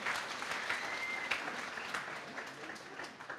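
A church congregation claps to thank the Lord, a steady wash of many hands at moderate distance, sustained and fairly even for a few seconds with a few sharper peaks.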